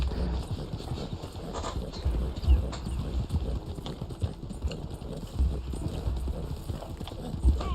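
Rapid rhythmic hoofbeats of a fast-galloping horse in the Red Dead Online video game, steady and close, with faint background game sounds.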